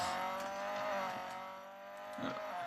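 A Mercedes A45 AMG in the Real Racing 3 video game braking hard and cornering, a steady engine drone with a brief tire squeal near the end, moderately loud and without speech.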